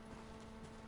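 Horse hooves clip-clop steadily in Ghost of Tsushima, a short, even patter of steps heard alone against a busy game backdrop.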